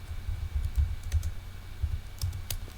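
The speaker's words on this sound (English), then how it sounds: "Let's just type in" Fingers tap on a computer keyboard in short bursts of quiet clicking, close and alone, with brief pauses between the runs of keystrokes.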